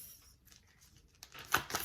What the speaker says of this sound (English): I'm going to shuffle out all 3 cards before getting into your message